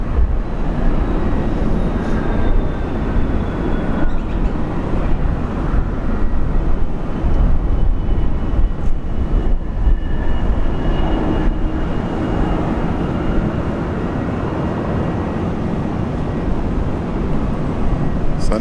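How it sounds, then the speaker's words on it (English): Alliance Airlines Fokker aircraft landing at Brisbane Airport, a steady broadband engine roar and rushing air from a moderate distance, continuous and fairly loud, with faint voices underneath. "Alliance Airlines, a Fokker landing now."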